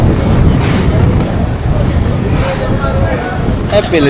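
Many fishing boats move about Munambam fishing harbour, giving a steady low engine rumble mixed with wind and water noise throughout, with a voice talking over it.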